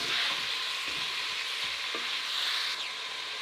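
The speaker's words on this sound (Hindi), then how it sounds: "अब इसी ऑयल के अंदर प्याज डाल देंगे।" Onions sizzle steadily in hot oil for a Chinese-style vegetable rice, a dense, even frying hiss with faint stirring scrapes throughout and no voices.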